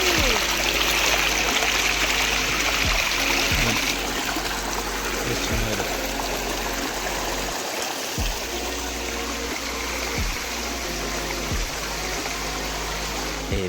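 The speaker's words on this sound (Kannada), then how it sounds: "ಈ ನೀರಿನ ಸದ್ದು ಕೇಳೋದಲ್ಲೇ ನಮಗೊಂಥರ ಪೀಸ್ ಸಿಗುತ್ತೆ" Steady rushing and trickling of clear stream water on the Yana Caves trek near Gokarna, close and continuous, with a low droning hum running underneath throughout.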